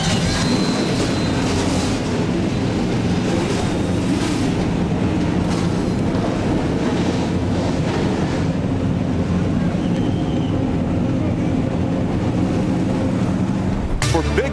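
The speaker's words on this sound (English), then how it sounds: "Drivers, start your engines" A field of stock car engines at the Daytona ARCA race roars at start-up in a dense, steady wall of low rumble that holds for the whole stretch, with a brief louder burst at the very end.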